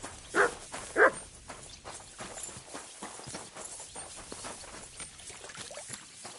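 A dog barks twice in quick succession near the start of a scene in Kingdom Come: Deliverance 2, the sharp yelps standing out over a low ambient murmur that carries on quietly afterward.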